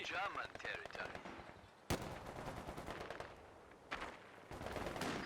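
Machine gun fire in the real-time strategy game Company of Heroes 2, with rapid rattling bursts and a few sharp louder reports, mixed with other battle noise under a commentator's voice.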